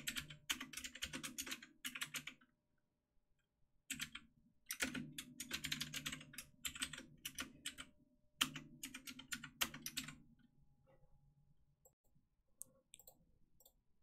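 Code being typed on a computer keyboard, rapid clicky key bursts in several runs separated by short pauses, close and fairly quiet, ending with a few scattered taps.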